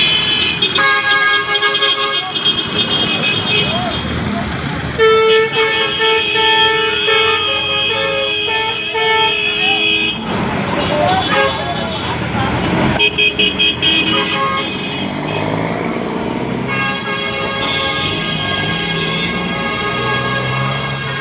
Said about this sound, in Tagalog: Traffic talaga dito.